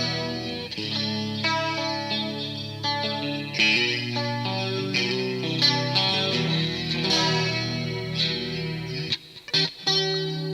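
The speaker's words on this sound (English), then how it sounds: "Why don't we hit this button that says modulation, that is set to chorus right now." An electric guitar plays through a Hughes & Kettner amp with its modulation set to chorus at high intensity, giving a shimmering, wavering tone. Sustained chords and single notes ring out clearly with reverb tails and no talking.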